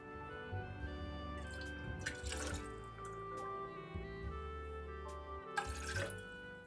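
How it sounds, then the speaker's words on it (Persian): Water poured into a small pot to start halva syrup, a quiet trickling, splashing stream over a background of soft tonal hum, with a few brighter splashes along the way. "داخل یه قابلمه کوچیک آبو میریزم"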